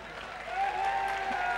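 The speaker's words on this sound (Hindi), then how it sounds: "एक बार जोरदार ताली बजा सभी लोग" An audience claps at a stage program honouring a local MLA, a dense crowd applause that swells midway and holds, with a sustained tonal hum and a voice faintly beneath.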